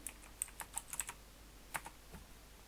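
Brisk clicks from a computer keyboard come in a quick burst of keystrokes, then a pause and a few more taps, soft and close, with no talking.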